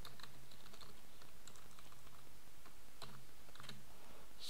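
Faint, steady typing on a computer keyboard as text goes into a file, soft key clicks running in quick irregular bursts with a few sharper taps, no voices.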